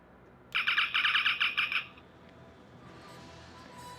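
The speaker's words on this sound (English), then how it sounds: "when I open up the cover the familiar communications chirp" A bright Star Trek original series communicator chirp from a replica prop warbles rapidly for about a second and a half as the cover opens, then cuts off, leaving faint background hiss.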